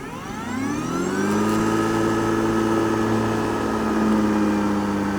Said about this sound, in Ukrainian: Якщо попадається висока трава, вона зразу е, підкидає оберти.